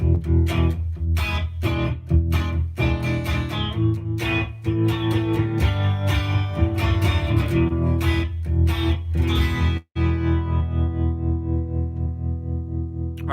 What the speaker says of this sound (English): when you make the time really short, it makes it sound like you're in a small-ish kind of room.